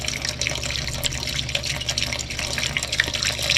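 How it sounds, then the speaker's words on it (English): Water pours into the cooling tank of an ore mill engine, a steady hissing splash that runs continuously for a few seconds, close and fairly loud, with no talking. "Just a little bit of water in here for cooling."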